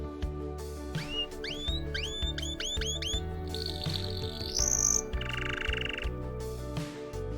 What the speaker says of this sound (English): Budgies.